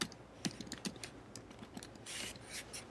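Someone types on a computer keyboard in quiet, irregular clicks and short bursts of keystrokes, soft and close with no talking.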